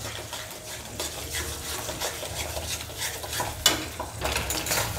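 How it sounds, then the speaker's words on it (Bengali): An egg frying in a pan gives off a steady, moderately loud sizzle, with a few light clinks of a utensil against the pan. No one speaks. "ডিমটাকে এখন ভাজতে হবে।"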